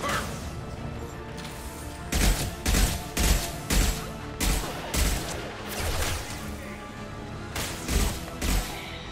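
Bursts of gunfire from inferno rounds in the video game Mass Effect 2, a rapid series of loud, sharp volleys repeating in rhythmic clusters across the clip.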